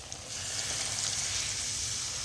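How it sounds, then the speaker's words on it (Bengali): Water goes into sizzling potato curry masala in a pan, and a loud, dense hiss rises sharply and holds steady, close up and with no talk. "এটার মধ্যে আমি এবার জল দিয়ে দেবো"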